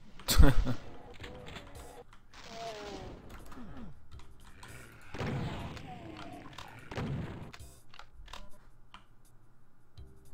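Gunfire aimed at the player in the video game Doom 2: a loud burst at the start, then scattered booming shots and game sound effects, with someone speaking French over parts of it.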